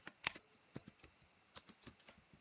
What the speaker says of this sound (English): oops, had a little trouble typing here